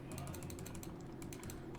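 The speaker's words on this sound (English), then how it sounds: "just clicking on buttons here" Mouse clicks on a computer during a War Thunder session, a quick run of small, light taps repeating at a brisk, uneven pace over a steady low background hum.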